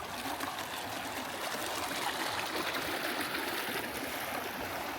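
Stream water in the hills of Uganda, muddy after rain, flows steadily over rocks, a dense continuous rushing and trickling close by with no voices.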